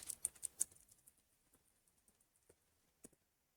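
Keys click on a computer keyboard in short, irregular bursts, soft and close, with quiet gaps between the taps and no talking.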